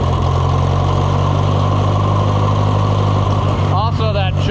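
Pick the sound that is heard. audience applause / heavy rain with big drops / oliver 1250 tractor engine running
oliver 1250 tractor engine running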